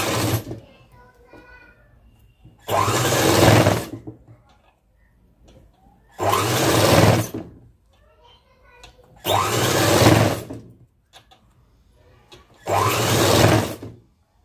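Electric sewing machine stitching thin piping onto a boat-neck long frock, in four loud bursts of rapid whirring separated by quiet pauses with faint background sounds.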